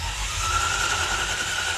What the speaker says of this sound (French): Le son du moteur chatouille les écoutilles de nos 3 magiciens de la mécanique